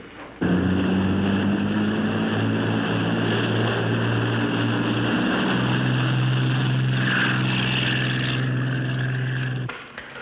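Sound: helicopter flying overhead

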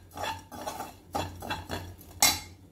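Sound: ingredients dry-roasting and stirred in a kadai

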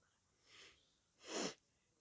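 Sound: sniffing through a blocked nose

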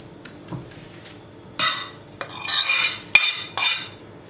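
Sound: spooning and pressing ground meat filling into eggplant in a pot

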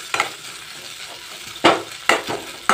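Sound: frying ginger garlic paste in a pan

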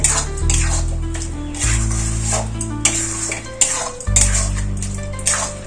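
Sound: stirring ridge gourd and onion poppy-seed curry in pan

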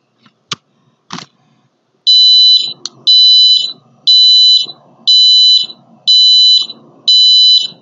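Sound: Arduino buzzer beeping once per second at 1000 Hz

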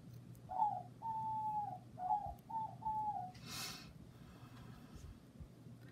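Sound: doves cooing early in the morning

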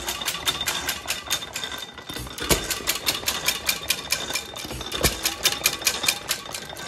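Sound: Aermotor 8-cycle hit-and-miss engine running

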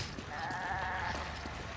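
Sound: goat bleating in Resident Evil video game

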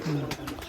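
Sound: pigeons cooing on pigeon farm

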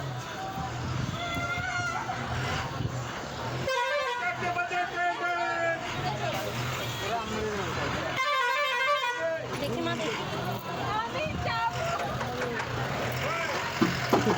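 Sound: bus honking its horn

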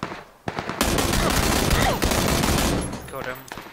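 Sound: gunshots in PUBG video game

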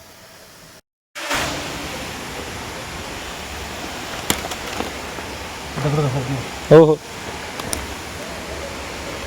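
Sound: waterfall at Maulikund, Radhanagari

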